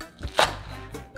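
A few quiet knife chops on a cutting board, one sharper cut standing out among soft taps, close by with no talk.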